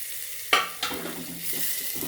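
Chicken and medium tomato pieces dropped into spices frying in a pan: two sharp bursts of sizzle, then a steady loud hiss of frying with faint stirring.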